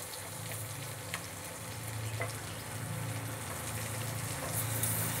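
Chopped garlic and onion sizzle in melted butter in a pan for a stew, a steady, moderately quiet frying hiss with occasional soft stirring, no voices.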